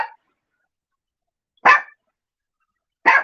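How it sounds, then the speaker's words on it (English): A dog barks in three short, sharp, separate bursts spaced a second or more apart, close and loud with silence between them. "This dog hears everything."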